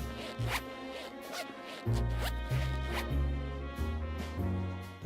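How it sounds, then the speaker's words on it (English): A zipper is worked in Chicken Police in a series of short tonal zips and tugs, several distinct pulls in a loose, uneven rhythm, close up over a soft musical background. "The hell kind of zipper is that complicated?"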